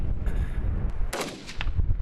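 Machine gun fire cracks out in a few separate, sharp single shots with a short pause between them, loud and close, followed by echoing rumble.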